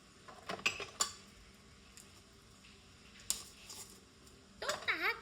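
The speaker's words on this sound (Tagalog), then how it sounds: "Let's open our pan." A metal baking pan opened in a home kitchen, sharp metallic clinks and clatter in a few short bursts near the start and again at the end, with quiet talk and gaps between.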